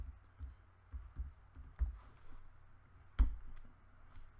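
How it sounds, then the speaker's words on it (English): Keys tapped on a laptop keyboard, faint and close, with a few soft scattered clicks and one sharper press standing out near the end. "I hit the enter key, and now I type in no shutdown"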